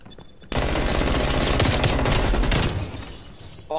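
Rapid automatic gunfire from a Gun Game match in Black Ops Cold War, a dense burst of loud close shots lasting about three seconds that starts abruptly and then fades into quieter trailing reports.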